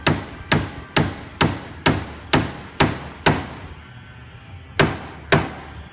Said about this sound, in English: She's learning how to use a hammer.